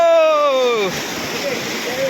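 Cold mountain stream water on the Amarnath trek rushes steadily and loudly, as if right underfoot, with a person's voice heard briefly at the start.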